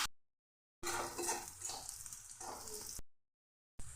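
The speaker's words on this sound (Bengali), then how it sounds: "পেঁয়াজ আদা লঙ্কা সমস্ত কিছু লাল করে ভেজে" Onion, ginger and green chili frying in a pan, a loud crackling sizzle running about two seconds, starting and stopping abruptly, with faint clinks of a spatula against the pan.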